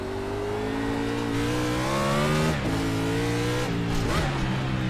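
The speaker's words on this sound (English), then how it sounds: "Number 20 Ream Toyota Camry of Christopher Bell" A NASCAR Gen 6 Toyota Camry engine in the iRacing sim, revving up loudly and steadily with a brief lift and a downshift blip before rising again.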